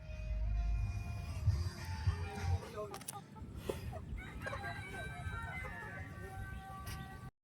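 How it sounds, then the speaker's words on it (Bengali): Local desi chickens cluck and crow at a roadside food stall in Mandarmani, a few calls rising over busy crowd chatter and background traffic, with people talking nearby throughout. "দেখুন এই যে রয়েছে দেশি মুরগি"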